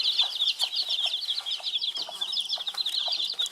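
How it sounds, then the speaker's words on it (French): High, rapid peeping of seven two-week-old chicks fills the scene nonstop, with occasional lower soft clucks from a hen underneath, close and lively. "on va aller voir les 7 petits poussins avec ma poule"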